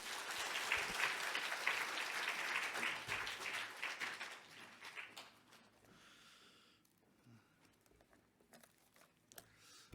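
A church congregation gives a dense, soft round of applause for the pastor before the sermon. It holds steady for several seconds, then fades into quieter room sound with a few stray taps.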